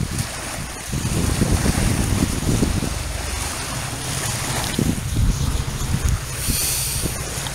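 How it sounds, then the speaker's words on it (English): Water washes and laps steadily at the shore, with a broad rushing sound and gusty wind rumbling over the microphone, no voices. "Can you hear the water lapping here at the shore?"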